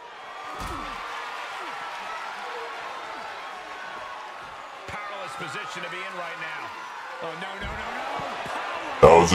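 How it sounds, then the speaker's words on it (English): A body slams to the mat in the WWE 2K24 wrestling video game. The thuds and impacts are heard over a continuous arena crowd roar, with a sharper loud crash at the very end. "Good power slam."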